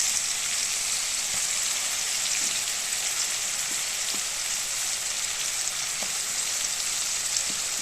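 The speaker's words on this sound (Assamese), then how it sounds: "পিঁয়াজখিনি আপোনালোকে ভালকৈ লৰাই ভাজি থাকিব" Onion paste with ground chilli fries in a pan for a chitol fish rezala, giving a loud, continuous sizzle with occasional soft scrapes as it is stirred, and no voices.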